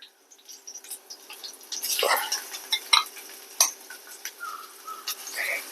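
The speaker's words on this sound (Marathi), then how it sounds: "हिरव्या मिरच्या थोड्याशा परतून घ्यायच्या म्हणजे हिरव्या मिरच्या परतून झाले थोडासा आपण त्याच्यात कांदा घालूया" Onion and green chillies sautéing with garlic in a pan for a festival thali: soft sizzle with repeated spatula scrapes and pan clinks, moderately close, irregular stirring rhythm, with faint background voices.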